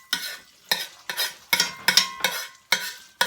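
Beef and broccoli caramelizing in a hot pan, a spatula scraping and tossing in repeated sharp strokes about every half second over a crackling sizzle, close up and alone.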